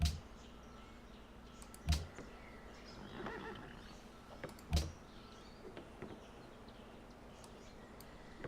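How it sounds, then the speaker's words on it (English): Horses neigh in the Civilization V strategy game, two brief whinnies at moderate level over a quiet game ambience, with a few softer clicks and chirps between them. "We're gonna go down and put these horses to work."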